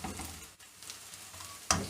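Sliced onions frying in a pan for pyaz anda bhurji, a soft steady sizzle with faint stirring scrapes and a sharper clack of the spoon near the end.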